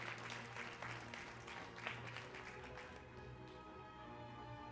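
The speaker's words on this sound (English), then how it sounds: "let's have a round of applause for art" Faint, distant applause from an audience at an art event in Berlin, a thin patter of clapping over a steady hum of room noise that tapers off toward the end.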